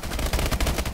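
Rapid bursts of gunfire from a weapon in Call of Duty: Advanced Warfare Exo-Zombies, loud and close, with dense repeated shots running back to back through the whole moment.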